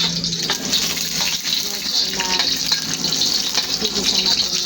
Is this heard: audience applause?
no